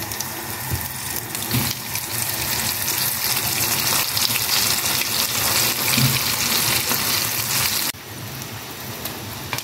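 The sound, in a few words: chicken feet deep-frying in oil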